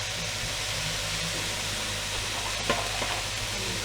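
A pork stir-fry is tossed in a hot pan, giving a dense, even sizzle and hiss throughout, with a faint scrape or clink of the spatula near the end.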